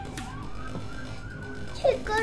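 A fire truck siren wails at a steady pitch through background noise and distant chatter near a large fire in Hawaii, with a sharp higher tone cutting in near the end.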